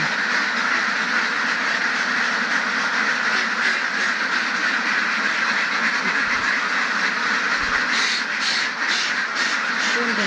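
A dense, steady chorus of farm ducks quacking, loud and continuous, with a busy outdoor background underneath.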